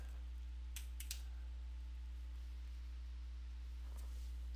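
Typing on a computer keyboard in Adobe Illustrator CS6: a few faint, quick key clicks in two short bursts over a steady low electrical hum.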